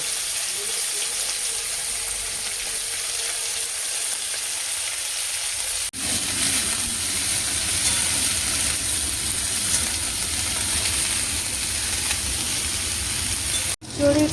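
Small mola fish frying in a pan send up a continuous near sizzle and crackle that grows fuller midway. A voice talks quietly underneath at times.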